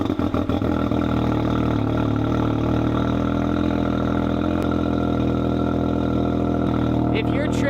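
A Can-Am side-by-side fitted with a loud Silver Turbos exhaust fires up and settles into a steady, rumbling idle, close and loud throughout, with a short burst of rapid pulses at the start.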